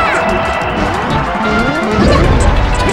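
Heavy down smash attacks repeatedly striking a shield in a Super Smash Bros. Melee tournament match, Ganondorf against Ice Climbers and Jigglypuff, loud crunching impacts over dense game noise and crowd murmur.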